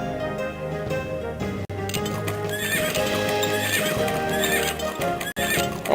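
Horses neigh and hooves clip-clop in the Civil War Generals 2 video game, a steady, busy game soundscape heard loud and close, with the whinnies layered over a continuous background and no speech.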